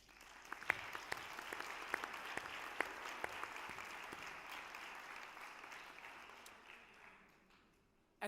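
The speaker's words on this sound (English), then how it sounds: "Perhaps we can give a more traditional show of pride for the graduates through a well-deserved round of applause" Sustained round of applause from a graduation ceremony audience at the University of Aberdeen honouring the Class of 2019 graduates, steady dense clapping with a few sharper claps standing out, fading toward the end.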